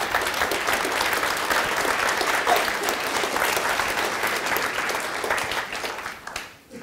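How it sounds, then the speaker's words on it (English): An audience in a seminar room claps steadily for several seconds, a dense even applause that fades out at the end. "give her a round of applause as well"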